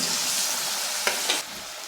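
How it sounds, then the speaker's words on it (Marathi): Kalete (clams) frying with crisp garlic in a pan over a slow flame, giving a steady close hiss of sizzling with two brief stirring scrapes near the end and no talking. "लसण छान कुरकुरीत झालेला आहे त्याच्यामध्ये ही कालेट घालून घेणार आहे"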